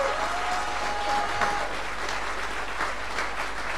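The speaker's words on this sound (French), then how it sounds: "Et ben un tonnerre d'applaudissements." Sustained applause from an audience, dense and steady clapping throughout with a brief whistle near the start.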